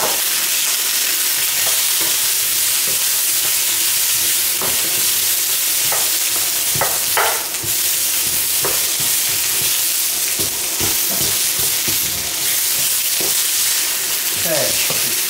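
Olive oil sizzles and crackles loudly in a pan while oxtail and lamb stew is cooked, a constant hiss broken by sharp pops and occasional stirring clatter.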